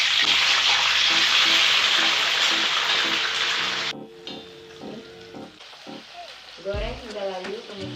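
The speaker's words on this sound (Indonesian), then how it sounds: "Panaskan minyak secukupnya. Masukkan cabai keriting." Curly chilies sizzle loudly in hot oil for sambal with anchovies, a dense crackling hiss that fills the first four seconds and then drops away to quieter frying while a voice talks.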